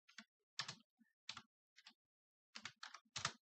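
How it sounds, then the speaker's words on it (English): Bursts of keystrokes on a computer keyboard, tapped in short uneven clusters with brief pauses between, close and fairly quiet, with no voices. "We're just typing into the computer."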